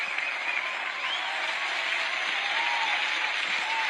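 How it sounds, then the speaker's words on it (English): Steady applause from a crowd, continuous clapping at an even level that fills the whole span without pause, with no voices breaking through. "Let's drop the claps."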